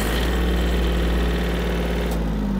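A Yanmar F-210 Japanese mini tractor engine runs loud and close with a steady low diesel drone and mechanical vibration while the tractor drives.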